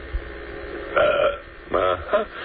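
A caller burps over a telephone line on a radio talk show, with two or three loud, drawn-out belches spread through a couple of seconds, close and clear against a low hum.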